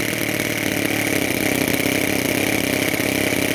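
A homemade 7cc two-cylinder Otto-cycle mini engine idles with a steady, buzzy drone that runs continuously and fairly loud throughout, with no talk over it.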